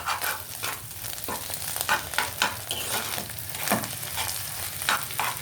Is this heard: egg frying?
yes